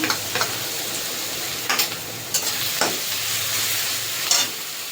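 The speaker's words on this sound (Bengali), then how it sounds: "রসুনটা একটু ভেজে নেব।" Garlic paste frying in a pan and being stirred for a Bengali doi katla fish curry: a steady close sizzle broken by several sharp scraping clicks from the spoon, with no talking.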